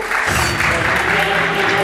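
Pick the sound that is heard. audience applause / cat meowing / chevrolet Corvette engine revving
audience applause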